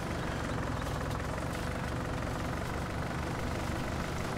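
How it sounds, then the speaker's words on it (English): A new mowing tractor idles in the Farming Simulator 19 video game, a steady, dense, low engine rumble with a faint knocking texture that holds constant throughout, no voices. "Hope you like our new mowing tractor, brand new"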